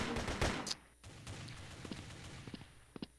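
Gunfire in the online shooter Blood Strike: a few quiet shots and a short burst near the start. Scattered faint pops and footstep-like taps follow.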